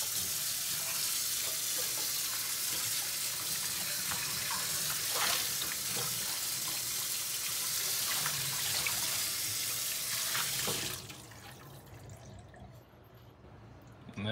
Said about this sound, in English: As you can see, giving it a nice spray down gets most of the gunk off.